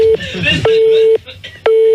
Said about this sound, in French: Je crois que tu peux arrêter la sonnerie, Phil.